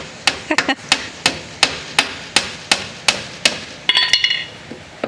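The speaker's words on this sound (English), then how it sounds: "These nails are having a hard time getting into that old wood in the back side of it." A hammer drives cheap nails into old, tough wood on a rotten Victorian porch, sharp steady blows about every third of a second, close and loud, ending in a quick flurry of lighter taps.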